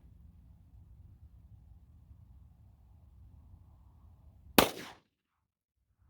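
A single sharp, loud 9mm gunshot from a Winchester Defender 124 grain +P round cracks out over a low outdoor rumble, then drops into near silence.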